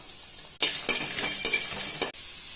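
Hissing sizzle of chopped onion frying in a hot pan without oil, with a few stirring scrapes inside one continuous burst that starts and stops abruptly.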